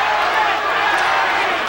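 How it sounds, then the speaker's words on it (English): Boxing crowd at the 1986 Larry Holmes vs Michael Spinks heavyweight title rematch, a dense roaring mass of voices chanting Larry, steady and loud throughout with no pause. "They all chanting Larry,"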